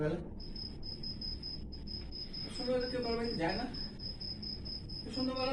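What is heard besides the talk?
crickets chirping, theatre sound effect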